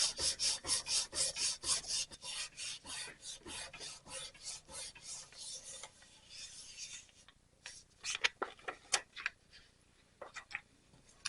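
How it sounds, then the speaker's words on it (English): Polymer clay rolled thin through a pasta machine is burnished with steady, rhythmic rasping strokes, close and clear, that later break into irregular scrapes and taps. "I need to run this through my pasta machine. And we're going to burnish that."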